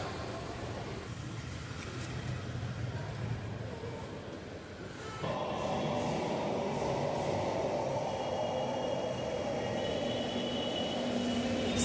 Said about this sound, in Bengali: আর মেট্রো রেল আসতেই দুপুরের এই গরমের মধ্যে এসির হাওয়া খেতে খেতে পৌঁছে গেলাম ধর্মতলা স্টেশন।